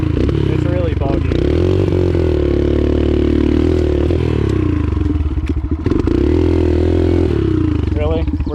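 A Kawasaki KLX140 trail bike's engine runs loud and close on a dirt trail, holding a steady drone with shifts in revs and clattering thumps from the rough ground, while a rider talks over it.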